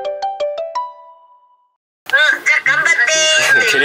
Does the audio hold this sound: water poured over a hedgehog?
no